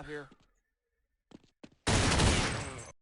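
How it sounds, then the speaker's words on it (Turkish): Short voice fragments come first, then a burst of automatic gunfire from a bot in Counter-Strike 1.0 erupts loudly and continues as a dense, sustained rattle for about a second. "Otomatik adam zaten triggerlandı vurdu beni."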